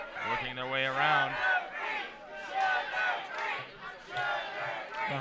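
A stadium crowd at a soccer match chants in rolling, rhythmic waves, loud and sustained, with voices rising and falling together throughout.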